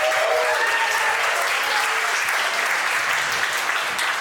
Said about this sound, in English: So you guys should give yourself a round of applause.